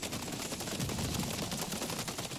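Laser weapon firing in MW3 Zombies, a dense continuous crackling burst of rapid shots that stays loud and steady throughout, layered with game combat noise.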